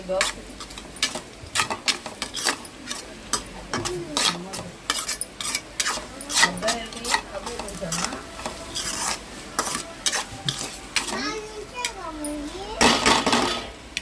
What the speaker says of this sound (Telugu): కారం కూడా వేసుకొని మొత్తం కలుపుకోండి